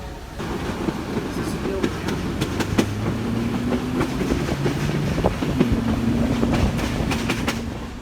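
A steam train rumbling steadily along the rails while climbing a hill, with rhythmic clicks and a low droning engine tone rising and falling, people talking faintly underneath.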